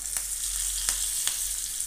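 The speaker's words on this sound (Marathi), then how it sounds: "भोपळ्याच्या भरताला तुपाची फोडणी करायची।" Ghee tempering with cumin, asafoetida, chilli pieces and curry leaves sizzles steadily in a small pan, a continuous close hiss with a few sharp crackles and no talking.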